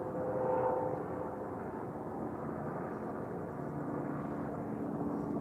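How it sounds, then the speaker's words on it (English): Helicopters flying over Las Vegas give a steady, muffled drone of rotor and engine noise that holds at an even level from start to finish, with no speech over it. "You hear that? Helicopters."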